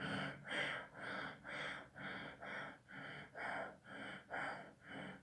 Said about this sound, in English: you do it a little bit faster than normal breathing